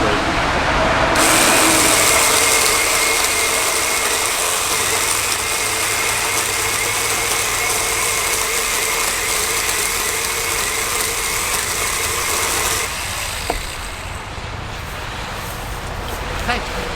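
A Ryobi OPP1820 cordless pole saw cuts through a tree trunk, a loud steady whirring drone of the motor and chain running continuously for the whole stretch, dropping slightly in level near the end.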